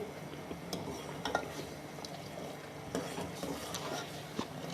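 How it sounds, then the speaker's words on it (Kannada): Sugar syrup for putani unde boils in a pan while a spoon stirs it, giving soft bubbling and faint scraping with occasional light metal clinks, quiet and close, with no talk. "ಈ ರೀತಿ ಚೆನ್ನಾಗಿ ಮಿಕ್ಸ್ ಮಾಡಿಕೊಂಡು ಕುದಿಸಿಕೊಳ್ಳಿ"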